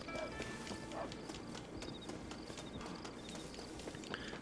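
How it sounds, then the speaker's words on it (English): Horse hooves from a Red Dead Redemption game steadily clip-clop through a dense game soundscape, a continuous run of muffled beats at moderate level. "Let's call my horse because I ain't about this walking life"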